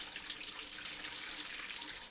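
Water pours steadily into a bowl set on a kitchen scale while making sourdough, a continuous close hiss and splash with no talk.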